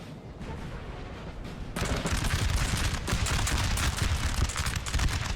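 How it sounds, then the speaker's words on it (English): Musket volley fire in the Napoleon Total War video game, with French infantry firing on Russian troops near a hill: a dense, loud, continuous crackle of many shots that swells sharply partway through. No one speaks. "France is firing way too soon."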